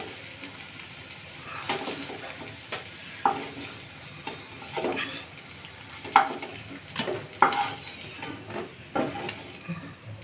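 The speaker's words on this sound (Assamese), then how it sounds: "মই সেইখিনি তেলতে আলু আৰু কণীখিনি ভাজি ল'লোঁ" Potatoes and eggs fry in oil left over from onions, part of preparing an egg paneer biryani: a steady sizzle runs throughout, broken by sharp clinks and scrapes of stirring, with no one talking.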